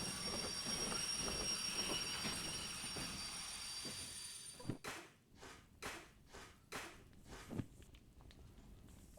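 A moving locomotive rumbles steadily in the Derail Valley train game, with a broad mechanical roar giving way to a series of sharp clunks and hiss-like bursts near the end.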